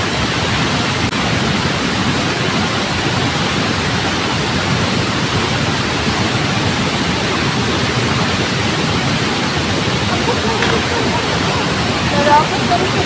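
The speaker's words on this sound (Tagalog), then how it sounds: "Naay baha." A flooded river rushing past: loud, steady broadband roar of fast-moving water, close and unbroken for the whole stretch.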